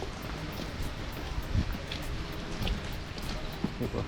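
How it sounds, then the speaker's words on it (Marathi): Steady monsoon rain pattering on surfaces on a plateau trek near Matheran, with a constant hiss and scattered drops, moderately quiet, with no clear talking. "मस्त पाऊस पडतो वरून"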